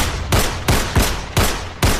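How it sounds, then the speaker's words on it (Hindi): Five loud pistol gunshots ring out one after another at uneven intervals, each a sharp crack with a short decaying tail, in a dramatic film scene with no talking. "बिना देरी किए अपनी पिस्टल की 6 गोलियां उसके सीने में उतार दी"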